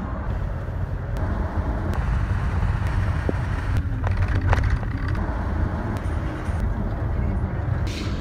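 Steady low road rumble inside a vehicle on a long highway drive across La Pampa, Argentina, with occasional faint clicks and rattles over the continuous drone.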